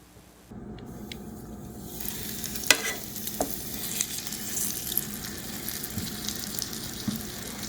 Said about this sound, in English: You can hear the sizzle already starting.